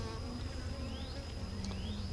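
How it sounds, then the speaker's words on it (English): Honey bees at an open queenless hive, a close, steady buzzing drone with individual bees whining past now and then, alone without talk. "Quite a bit of bees here."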